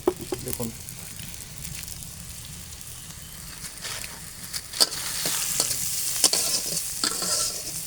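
Chickpeas and potatoes fry and sizzle in a pan while being stirred, with scraping clicks of the spoon over a steady hiss that grows louder toward the end, heard up close.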